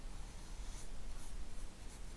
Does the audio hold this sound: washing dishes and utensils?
no